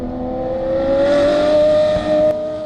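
Ferrari 599XX Evoluzione race car engine heard from inside the cabin, loud and close, its pitch rising steadily under acceleration before a brief dip at a gear change, then pulling on again.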